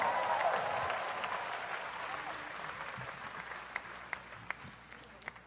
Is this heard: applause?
yes